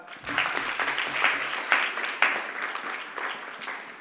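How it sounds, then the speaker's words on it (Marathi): Audience clapping at a Gadgebaba Maharaj birth-anniversary gathering, a steady burst of applause lasting about four seconds with a few louder claps standing out, fairly close and with no speech over it. "हिच्यासाठी टाळ्या वाजवा"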